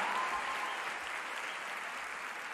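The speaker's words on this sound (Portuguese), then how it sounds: "aplaude com vontade" Steady applause from a church congregation, dense and continuous clapping throughout, fairly even in loudness with no voices standing out.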